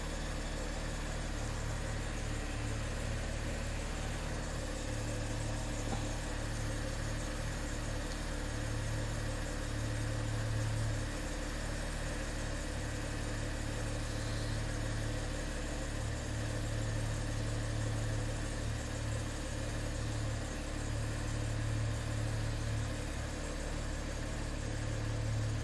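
A car engine idles steadily before a dyno tune with a Volo Chip VP16 power programmer, a continuous low rumble with mild vibration throughout, close and fairly loud, with no talking.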